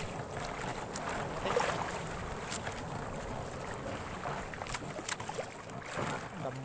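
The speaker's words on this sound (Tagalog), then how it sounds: "Laki ng alon mga kapaps." Large sea waves slosh and slap around a small fishing boat at sea, with gusting wind buffeting the microphone and occasional splashes, steady and moderately loud.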